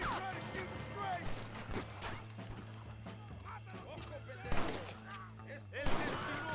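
Gunfire in the Western video game Red Dead Redemption: a chaotic fusillade of rifle and pistol shots with several loud close cracks, under shouting voices and game music.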